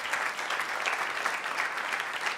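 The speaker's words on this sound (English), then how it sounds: "Merci beaucoup pour les applaudir." An audience applauds after a conference presentation, a soft, even wash of many hands clapping at a distance, sustained without pause and with no speech on top.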